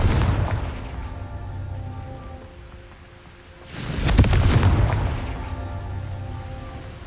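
A Confringo fire spell from Hogwarts Legacy bursts in one loud explosive blast with a booming low rumble that fades over a couple of seconds, set against a steady ambient hum.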